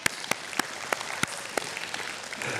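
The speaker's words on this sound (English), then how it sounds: "I want you to stomp your feet and clap your hands at the same time." A church congregation stomps and claps together while seated, producing a series of sharp, loud, irregular claps and thuds spaced about every third of a second, with a soft background murmur between hits.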